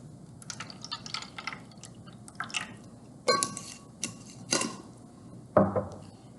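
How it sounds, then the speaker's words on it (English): Water poured into a bowl for a pepper-and-soap experiment, heard as a few short splashing and dripping bursts with light clinks of the bowl, close and fairly quiet against a soft background hiss. "I'm going to pour some water again into this bowl"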